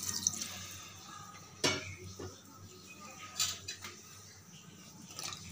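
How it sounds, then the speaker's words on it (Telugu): Water is added to a tomato curry in a cooking pot, producing faint splashing and dripping with a few soft knocks of the vessel, quiet and close. "ముక్క మునిగేంత వరకు వాటర్ యాడ్ చేసుకోవాలి"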